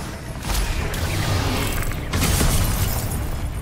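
Confringo blasting-spell explosions in Hogwarts Legacy, a couple of heavy booming bursts with crackling debris over continuous loud combat noise.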